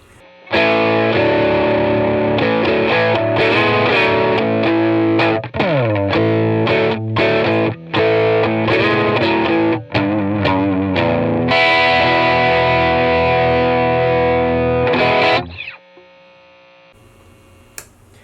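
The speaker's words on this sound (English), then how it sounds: "it's a great sounding overdrive pedal" Distorted electric guitar through an overdrive pedal plays chords and riffs with a gritty, saturated tone, loud and close, ending in a brief hum and pause.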